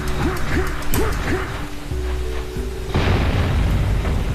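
Bomb explosions in the Jak and Daxter video game arrive as loud, booming blasts with a heavy low rumble. Short game effect tones come before them, with no talk.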